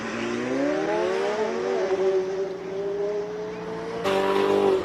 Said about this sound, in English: John Martin just launched his McLaren 720